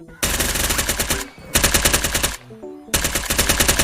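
Rapid automatic gunfire from the Gun3D gun addon in a video game comes in three loud, dense bursts of closely spaced shots, each lasting about a second, separated by brief pauses, with no talking.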